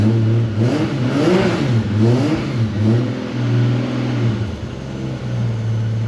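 A 2JZ-GTE engine in a rear-wheel-drive Honda Odyssey revs hard and loud up close, several rising and falling blips, then settles into a steady, slightly cold idle.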